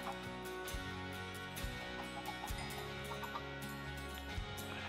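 Blocky chickens in the game Minecraft, heard as repeated short clucks over a steady soft game ambience, fairly close, with no talk.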